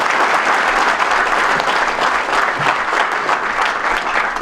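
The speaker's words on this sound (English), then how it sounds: "So a round of applause for TaylorMade." An audience at a golf professionals' awards meeting applauds steadily, a dense, even wash of clapping that holds at full strength throughout.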